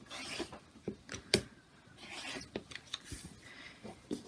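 A rotary cutter or blade trims the fabric edges of a quilt block against a ruler, giving soft irregular scraping and rubbing strokes with light clicks, close and quiet, with no talk.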